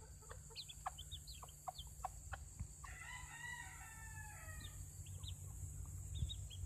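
Backyard chickens, including young topknot chicks, give short clucks and a warbling crow-like call, faint and distant over a low steady hum.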